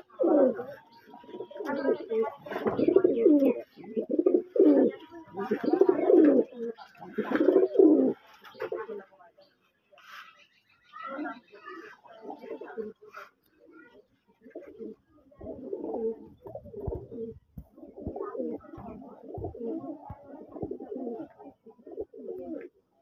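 Pigeons, including Benarasi birds kept for sale, coo repeatedly in rounded phrases, louder at first and then softer, with possible voices mixed in.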